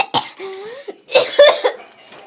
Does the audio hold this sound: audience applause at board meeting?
no